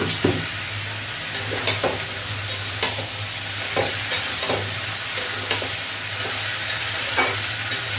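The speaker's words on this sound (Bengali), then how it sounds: "এটাকে মাঝে মাঝে একটু নাড়া দিতে হবে, নাহলে তলা লেগে যাবে" Poppy seed paste with chilli, salt, turmeric and black cumin being stirred in a hot pan, sizzling steadily while the spoon scrapes in periodic strokes, close and without speech.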